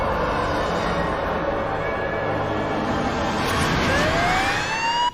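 An ambulance siren in a film wails in rising and falling sweeps over a steady traffic rumble and grows louder toward the end before it cuts off abruptly.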